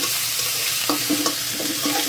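A spoonful of ginger paste fries in a pan under a steady soft sizzle, broken by a few brief stirring scrapes.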